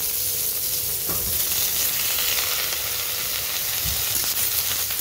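Garlic, chillies and black cumin fry in a pan with a constant loud, close sizzle and hiss, broken by a couple of soft stirring knocks.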